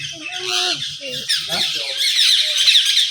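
Parrots at Casela Nature Park give loud, harsh, overlapping squawks close by, with voices mixed in.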